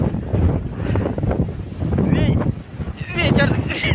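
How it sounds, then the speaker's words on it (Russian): Strong gusty wind roars and buffets a microphone outdoors between buildings, a loud continuous rumble with surging gusts, heard alongside a person talking. "Ветер просто вообще дует."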